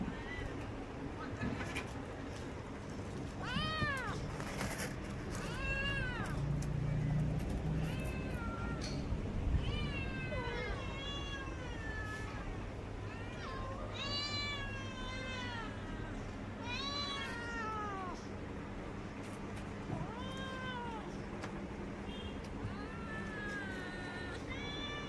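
A domestic cat gives a long series of insistent meows around feeding time, the cries clustered and repeated near the listener. A person talks intermittently and birds coo faintly in the background.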